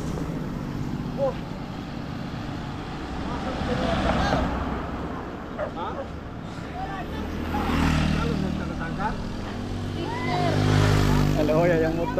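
A motorcycle rolls past in moderate roadside traffic, its engine noise swelling and fading among other vehicles while several people talk nearby.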